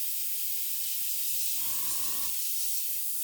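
An airbrush sprays paint onto a 1/72 scale Airfix Vulcan plastic model kit, masked with tape, giving a brief steady hiss of just under a second over constant background noise.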